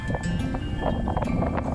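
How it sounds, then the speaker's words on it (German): Freshening strong wind while sailing toward Fehmarn rushes and buffets the microphone in a loud, continuous low roar, with gusty fluctuations and a faint tonal whine above. "Mit jeder Meile, die ich auf Fehmarn zulief, frischte der Wind mehr auf."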